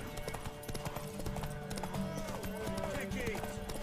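In The Witcher III Wild Hunt, horse hooves clip-clop steadily alongside tonal game music and ambient effects, with voices talking over the top.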